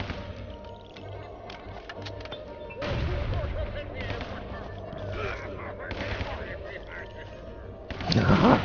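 Gunfire in the video game Guns, Gore and Cannoli, bursts of shots and impacts over a busy game soundtrack, with someone talking at times and a louder burst near the end.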